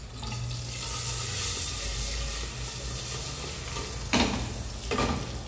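Garlic frying in a pan for a Sunday lunch of vaca atolada, a steady close sizzle with stirring throughout and two sharp scraping knocks near the end.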